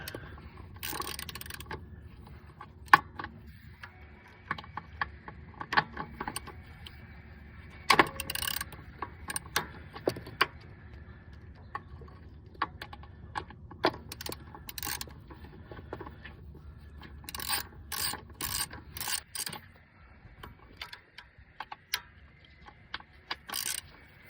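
Ratcheting clicks from a 10mm socket on an extension loosening a bolt on a 2006-2011 Honda Civic during starter replacement, coming in quick irregular bursts of sharp ticks over a low background hum.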